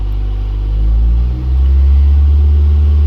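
A car engine revving as the gas pedal is pressed, a loud, close, low rumbling drone that dips briefly then swells back up, heard alone without talking.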